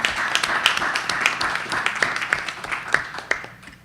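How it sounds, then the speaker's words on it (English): A smaller crowd at a town council meeting applauds a Veterans Day honor, individual claps clearly audible and fairly close, the clapping thinning and tapering off toward the end. "Let's give them another round of applause."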